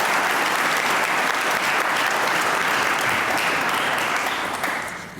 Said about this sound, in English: Let's give him a round of applause and show appreciation.